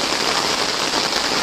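Steady rain in rainy weather hisses evenly and fairly loud, a dense wash of drops with no pauses or voices over the brief stretch.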